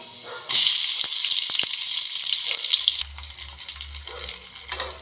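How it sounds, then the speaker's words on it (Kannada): Chopped onion and crushed garlic hit hot oil for a tempering, and a sudden loud sizzle starts and holds steady with small crackles and a few knocks, close up and with no voices. "ಒಗ್ಗರಣೆ ರೆಡಿ ಆಗ್ತಾ ಇದೆ"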